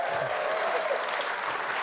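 An audience at a film festival comedy panel claps in a brief, faint patter of scattered applause, steady and distant throughout.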